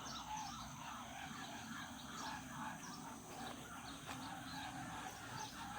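Chickens cluck on and off close by over a steady outdoor bed of birdsong and rustling, with no one talking.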